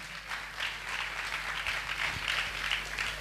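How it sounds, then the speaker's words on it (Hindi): A church congregation claps steadily in praise during a prayer festival, a dense, even patter of many hands continuing for a few seconds at moderate distance. "ताली बजा के प्रभु को महिमा करे।"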